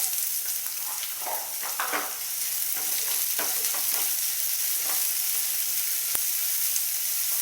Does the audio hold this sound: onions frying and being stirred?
yes